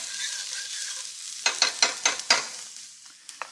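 Onions sauté in a pan with a steady sizzle and frying hiss, broken midway by several quick scraping stirs of a utensil, close and moderately quiet, no voices.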